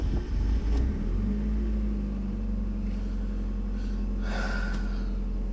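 A Mazda Miata NA engine, just back from a fuel filter service, cranks and catches at the start, then settles into a steady, close, low idle rumble that holds for several seconds.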